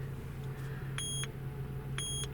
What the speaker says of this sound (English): those three beeps mean the tool has connected to the system